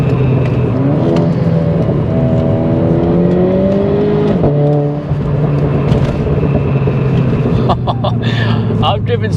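A Renault Clio RS hot hatch with a 240bhp engine drones steadily with rising and falling revs, loud and close throughout, while a person talks over it.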